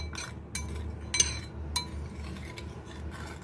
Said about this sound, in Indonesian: Aduk rata seperti ini.